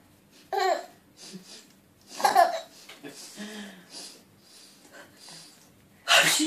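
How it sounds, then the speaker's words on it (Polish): A mother sneezes several times close by, with sharp bursts separated by pauses and soft babbling and baby vocal sounds in between. "Ale mama kicha"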